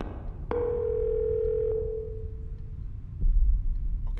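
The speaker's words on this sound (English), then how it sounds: "Phone ringing." Phone ringing in the video game Fatal Midnight, one steady electronic tone that sustains for over a second and then fades, over a low background rumble.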